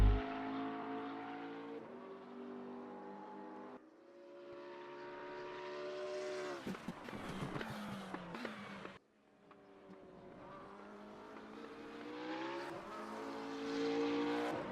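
A McLaren GT3 race car engine screams around Laguna Seca in a sim racing game, a loud, steady high-revving drone with rising pitch sweeps and abrupt gear-change drops, heard alone without talk.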